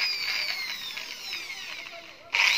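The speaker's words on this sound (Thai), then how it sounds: "ใช้สว่านนะครับเริ่มเจาะเข้าไป" A high-pitched electric drill whines steadily, its pitch wavering slightly as it bites in, then a sharper burst of drilling at the end, during a sliding door repair on a Kia Carnival.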